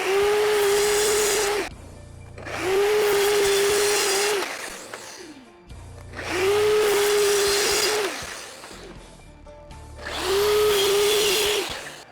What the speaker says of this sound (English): I'm now going to go over to the miter saw and cut these at 12-inch increments